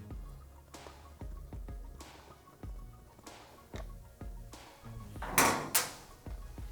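Small metallic clicks and knocks from a 4mm Allen key working a panel fastener loose on a 2020+ Kawasaki Ninja 650, coming in an irregular series close up, then a brief louder rustle near the end.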